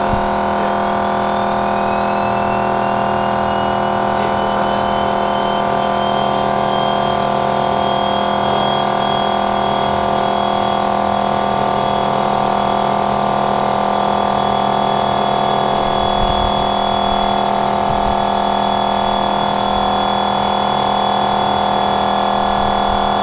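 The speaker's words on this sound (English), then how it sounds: "The engine runs." A self-sustaining motor engine runs continuously and loudly for the whole stretch, a steady droning hum with a constant tone and no pauses or talk.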